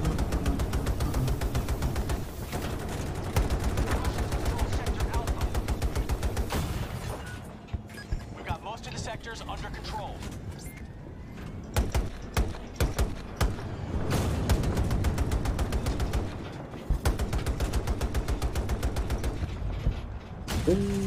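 Gunfire from the Battlefield beta video game, with dense rapid bursts and clattering mechanical shots that drop off midway and then return in sharp loud volleys.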